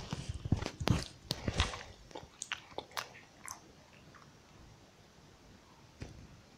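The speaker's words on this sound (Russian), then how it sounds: "Я ем." A person chews and bites food close to the microphone, with a cluster of sharp crunchy bites and mouth clicks early on that thin out into quieter chewing and a single later click, with no speech.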